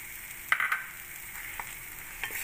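Malai (cream) roasting in a pan over a medium flame for shahi paneer: a steady, soft sizzling hiss with a few light scrapes and taps early on and near the end.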